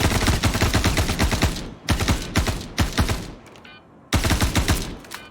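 Automatic weapon fire in the space game Star Citizen, several loud, close bursts of rapid shots separated by short pauses, the last burst cutting in sharply after a brief lull.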